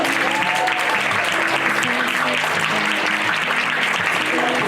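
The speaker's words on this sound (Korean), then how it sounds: "큰 박수 부탁드립니다" A crowd claps warmly at a Korean appointment ceremony welcoming actress Shin Se-kyung as a UNESCO Korean Commission special ambassador, with steady sustained applause over a faint background melody.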